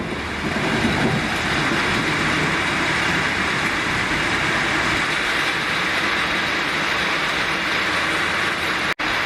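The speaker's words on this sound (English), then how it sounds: "It just started hectically raining." Heavy rain starts pouring outside a South African home, a loud, dense, continuous rushing hiss that holds steady before cutting off abruptly near the end.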